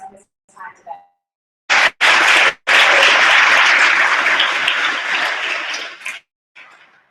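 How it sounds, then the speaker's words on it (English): A school audience at a class tapping ceremony bursts into loud applause after brief speech, with a couple of short cut-off bursts first, then a sustained round that fades before a voice returns. "let's give Greg Bettis another huge round of applause"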